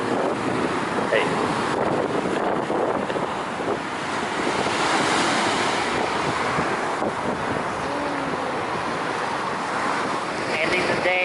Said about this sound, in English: The ocean.